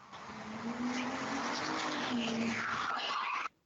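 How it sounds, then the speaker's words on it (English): Tires squeal in a sustained, high screech as a car speeds past, steady for a few seconds and then cutting off abruptly. "the sound of a screeching car speeding right into him"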